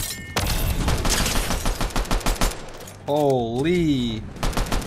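Rapid pistol gunfire in a competitive ranked video game, a dense burst of sharp repeated shots followed by more shots near the end, with excited talk over it and a rising tonal game sound midway.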